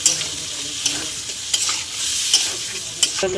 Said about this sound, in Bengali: সেখানে আমি টক দই দিয়ে দিলাম ভালো করে আরও ভালো করে কষিয়ে নেব